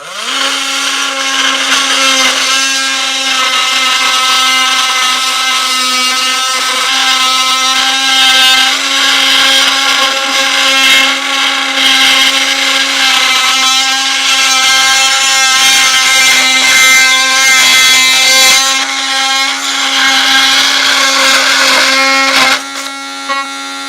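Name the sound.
jigsaw cutting during van build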